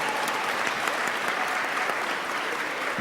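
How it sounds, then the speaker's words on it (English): An audience at a climate conference applauds steadily for a few seconds, a dense, even patter of many hands clapping in a hall. "please clap for them"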